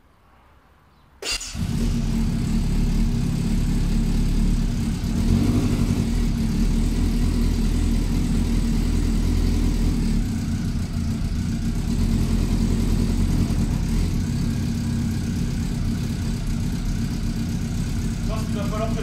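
A Yamaha Phaser motorcycle that has sat unused for a long time starts after a second of quiet and settles into a steady, loud idle that runs on without a break.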